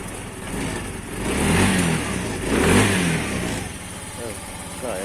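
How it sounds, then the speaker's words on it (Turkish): A Kanuni Mati 125 motorcycle engine runs close by, idling and then revving up twice in smooth swells before settling back to a steady idle. "Şimdi bir marş yapmak istiyorum. Test etmek amaçlı."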